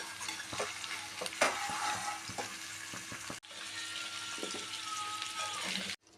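Mixed colourful vegetables fry in oil in a kadhai with a steady, loud sizzle and crackle, broken by occasional stirring scrapes and clatters; a brief pause midway, then the sizzle resumes until it cuts off near the end.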